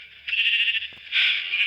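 Sheep in a corral let out a couple of loud, close bleats, one held cry followed by a second after a brief break, with no talk over them.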